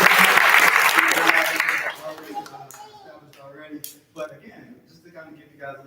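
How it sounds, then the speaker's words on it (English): A room of LaunchCode program participants in St. Louis bursts into loud applause that fades out after about two seconds, followed by scattered murmuring voices and a few stray claps. "let's give ourselves a round of applause for this completely"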